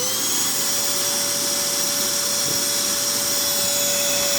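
A vacuum cleaner runs on battery backup power under high load, giving a loud, steady motor whine with a constant tone and airy suction roar, close and unbroken.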